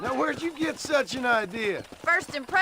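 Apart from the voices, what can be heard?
No everyday noises stand out.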